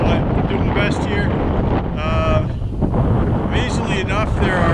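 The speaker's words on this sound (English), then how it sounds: "It's really windy, so if you can't hear me, I'm really sorry." Heavy wind buffets the microphone in a constant low roar outdoors near water in Resolute, Nunavut, with a voice partly buried underneath.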